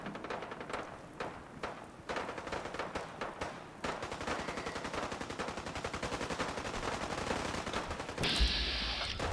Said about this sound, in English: Oh, more gunfire.